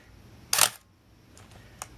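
Minolta X-700 35mm film SLR with 50mm f/1.7 lens firing its shutter at 1/1000th: one sharp, loud mechanical clack, followed a second later by a faint short click, otherwise quiet.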